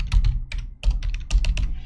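Keys clatter quickly on a computer keyboard as a password is typed, in short close bursts of clicks with no talking.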